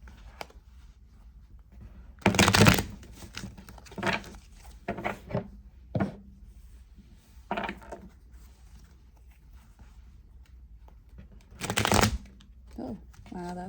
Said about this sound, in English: I shuffled this half of the deck backwards.